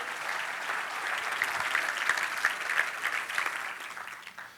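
A church congregation applauds together in a dense, sustained clatter that swells slightly before tapering off at the end.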